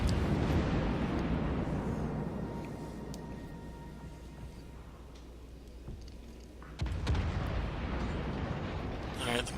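Naval guns firing high-explosive shells in a warship game, a loud booming blast that rolls off into a long low rumble, followed by a second heavy boom near the end.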